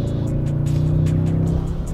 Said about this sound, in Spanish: y el sonido del motor es similar